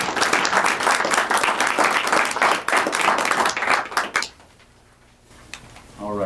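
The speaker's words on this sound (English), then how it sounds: "I think we need a round of applause for" An audience at a school board meeting claps in a sustained round of applause for about four seconds, then it stops abruptly into near quiet before a voice begins.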